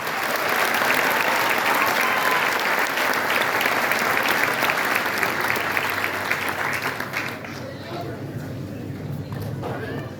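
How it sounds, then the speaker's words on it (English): Sustained applause from a large audience at a graduation ceremony, dense and loud, with voices mixed in, tapering slightly near the end. "Final round of applause for automotive services."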